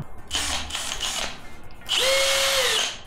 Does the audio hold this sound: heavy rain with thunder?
no